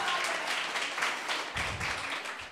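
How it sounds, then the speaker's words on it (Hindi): Audience applause at a Hindi music performance show, a steady wash of many hands clapping together at moderate loudness, filling the moment without any talk. "तो जी हाँ बने दो ताली।"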